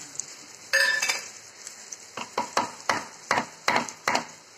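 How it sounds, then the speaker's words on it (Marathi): A spoon stirs a spiced masala mixture with tamarind chutney in a pan, making a run of close, distinct scraping strokes with a faint sizzle beneath. No one speaks. "आणि ह्याला व्यवस्थित हलवून घेते"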